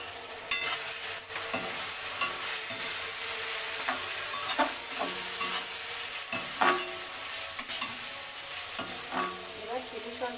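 Soy sauce is splashed into chilli chicken sizzling in hot oil, followed by steady stirring and scraping in the pan, with crackling fry noise throughout and brief louder clatters of the spoon.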